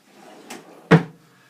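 A drawer on a King Kong Kases road case slides briefly, then shuts with a single close, solid thud.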